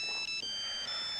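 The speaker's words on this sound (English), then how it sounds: "What a ringtone." A cell phone ringtone plays a bright electronic melody of short repeated tones, fairly loud and clear, with no talk over it.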